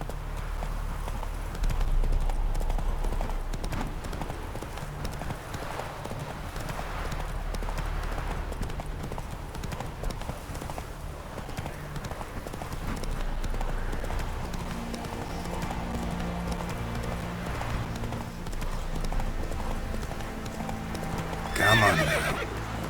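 Horse galloping in The Witcher 3, steady clip-clop hoofbeats running throughout with occasional whinnies, a brief louder burst near the end over game ambience.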